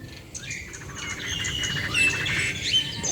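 Yellow-vented bulbuls give quick bubbly chirps and calls outdoors over a steady hum of insects and crickets. The birds sound moderately close but fairly faint against the background.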